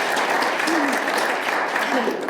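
Listeners at a poet laureate reading night clap in a steady, fairly close round of applause that continues throughout, with a voice speaking faintly beneath it.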